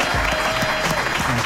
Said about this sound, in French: Le quiz à la con cette semaine avec un invité exceptionnel sous vos applaudissements, Vincent Manilev, mesdames et messieurs.